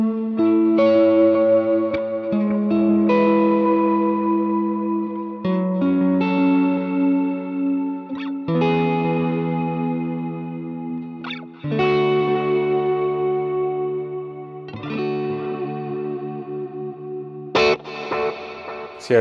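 Electric guitar played through a Hotone Ampero II Stomp multi-effects unit with drive and reverb engaged, loud distorted sustained chords and single notes ringing out with echoing tails, changing every few seconds at a slow tempo of about 80 BPM, no talking.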